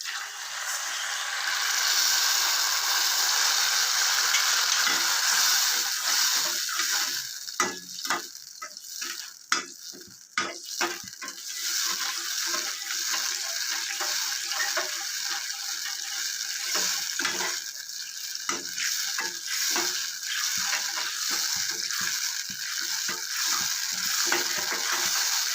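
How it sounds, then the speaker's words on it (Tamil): Tamarind water is poured over sautéed onions in a pan while making brinjal chutney, a steady loud sizzle with clattering stirs and scrapes from a utensil running throughout. "இப்போ இந்த புளி தண்ணியை ஊற்றிக்கலாம்."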